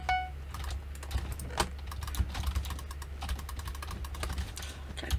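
Dry clicking of a mouse and keyboard during a block-building game, a rapid, irregular run of crisp close clicks and key taps over a low steady hum, with no speech.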